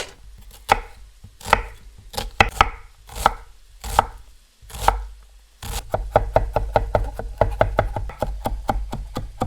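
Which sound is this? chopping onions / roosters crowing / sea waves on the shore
chopping onions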